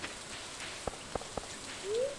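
Soft, steady rain patters in the farming game Stardew Valley, a faint wash with a few light drops and taps and a short rising chirp near the end.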